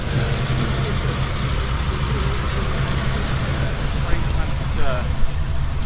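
A 1951 Ford Crestliner Custom Deluxe with a 239 cubic inch, 100 horsepower flathead V8 idles close by, a loud, even, low rumble throughout, with faint voices near the end.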